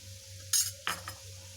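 A spoon stirs black pepper, turmeric and salt in a frying pan over a low sizzle, with a couple of sharp metallic clinks and scrapes against the pan.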